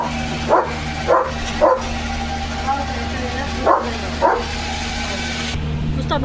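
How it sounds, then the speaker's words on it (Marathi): Leo, a German Shepherd, barks in short separate bursts spread across the clip, fairly close by, over a steady background hum and with people talking in the background. "नुसता भुंकत राहतोय."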